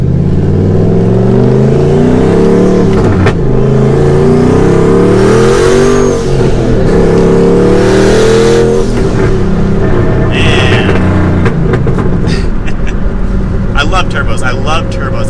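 A turbocharged Ford Mustang accelerates hard, its engine note rising through the gears with shifts and a loud, close roar, then turbo whooshes and popping as it backs off, with a person talking over the engine.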